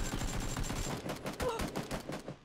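Rapid gunfire bursts from weapons in the battle royale video game PlayerUnknown's Battlegrounds, loud and continuous with fast repeated cracks, mixed with game noise throughout.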